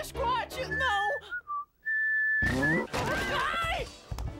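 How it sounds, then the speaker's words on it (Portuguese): A cartoon character whistles a cowboy tune in short, bright, sliding phrases, broken by animated voices and a few thumps and crashes. "Me dá vontade de assoviar outra música de cowboy."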